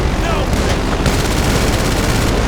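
Machine gun fire in GTA 5 Online, a loud, dense and continuous rattle of rapid shots that fills the whole stretch without a break.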